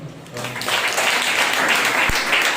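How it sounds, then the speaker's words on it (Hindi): Congregation clapping during a Sunday morning church service, a dense, steady wash of applause from a gathered crowd, fairly loud, with voices faintly mixed in. "रूबी के लिए जोरदार तालियां।"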